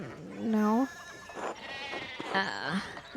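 Sheep in the video game Pentiment bleat twice, each a wavering, nasal call at close range; the first is louder and the second trails off in a rising quaver over soft game ambience.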